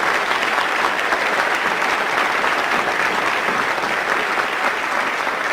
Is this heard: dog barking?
no